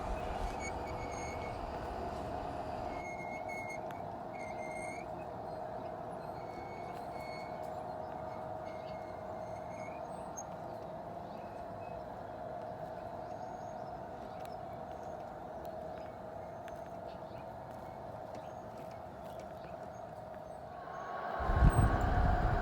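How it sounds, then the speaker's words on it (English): A G scale model train working as a westbound hill job at night, rounding a curve with a steady low rumble and faint high tones overhead, ending in a louder burst of noise. "Here we capture a westbound hill job at night rounding Big 60 curve."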